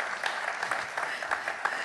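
Warm audience applause at a concert greeting a singer onstage, steady clapping from a hall crowd lasting throughout.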